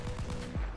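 Tank cannon fire from a T-80BVM in War Thunder: rumbling engine and rattling mechanical texture, then a single heavy low boom near the end, fairly close and full.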